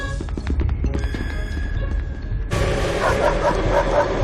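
A dog-like monster in the game SCP: Secret Laboratory barks and yelps in short, close bursts against a steady background hum of the game environment.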